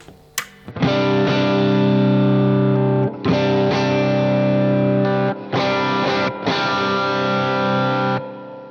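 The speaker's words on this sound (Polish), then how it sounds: "W takim czystym, lekko łamiącym się brzmieniu dam może troszkę mocniejszy przester." A Harley Benton SC-450 electric guitar with P90 pickups played through a stronger overdrive, giving loud, sustained distorted chords in several long held blocks separated by brief stops, alone without talk.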